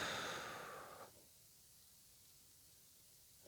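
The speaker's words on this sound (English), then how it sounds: "Breathing out through your mouth." A long, deep exhale through the mouth, a steady breathy rush that fades after about a second and gives way to near silence.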